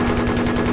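Gunfire in the Battlefield video game, a loud, dense burst of rapid shots filling the whole moment with steady, close automatic fire.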